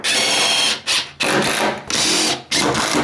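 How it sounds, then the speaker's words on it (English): Power driver bursts driving screws through a timber stud into stud framing for a downstairs toilet, four loud whirring runs separated by short pauses, close and alone. "this stud can go on there and screw straight in"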